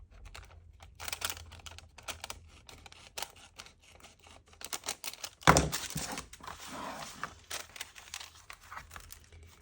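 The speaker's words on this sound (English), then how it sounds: "And I'm just going to tear it." Paper being torn by hand for a junk journal page, quiet close-up rustling and handling sounds with one sharp, louder tear in the middle, surrounded by soft crinkles and taps.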